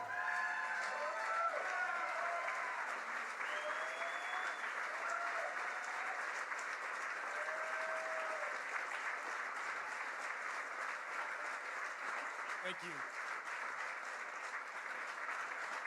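A banquet crowd at a lumberjack gala claps and cheers steadily as a Medal of Honor recipient, an Army staff sergeant, takes the stage; dense, sustained applause fills the room with scattered whoops over it.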